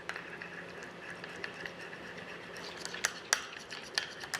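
A spoon stirring hummus with lime and tahini in a bowl gives faint, irregular scraping and light clinks, growing a little sharper toward the end, over a quiet room hum.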